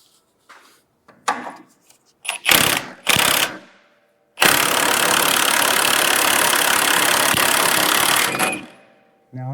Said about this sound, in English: we're going to buzz it up there with the impact and see if it'll just at least get tight for us